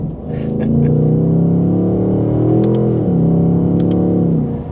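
The V8 engine of a 2026 Ford Mustang GT Premium runs with a loud, steady, deep drone that dips briefly in pitch, heard up close with no talking.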